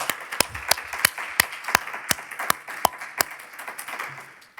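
A sparse handful of people clapping at a medical school Match Day ceremony, individual sharp claps spaced irregularly about twice a second, fairly faint, thinning out toward the end.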